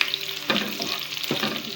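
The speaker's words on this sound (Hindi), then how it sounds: "हम तड़का लगा लें।" A tadka of oil and green chillies sizzles loudly in a pan for dhaba-style sarson ka saag. The steady frying hiss is broken by two stirring surges partway through.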